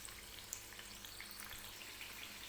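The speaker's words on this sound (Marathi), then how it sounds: "गॅसवरती या कचोरी जे आहेत ते तळून घेते" Mung dal kachoris deep fry in oil with a faint, even hiss and fine bubbling crackle that continues without a break, and no voices.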